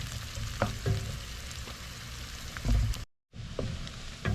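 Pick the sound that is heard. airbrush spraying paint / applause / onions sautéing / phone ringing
onions sautéing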